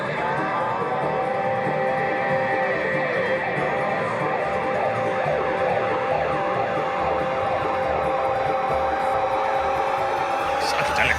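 A violin in a bluegrass setting slides through long sustained tones imitating a police car siren, played steadily and loud over a dense, continuous band backing.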